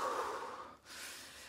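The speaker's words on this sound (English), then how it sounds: "He started breathing real deep." Deep, heavy breathing told as a frightened man opening a door; a drawn-out breath of air fades, breaks briefly, then resumes as a softer exhale, close and alone without talk.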